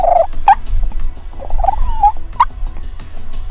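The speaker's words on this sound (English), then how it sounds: "And Chase started calling, and sure enough, those birds shot back" Wild turkeys gobble in answer to hunting calls on a morning hunt in Manitoba, Canada, several distinct gobbles at moderate distance rising over quiet open-air background, with no talking.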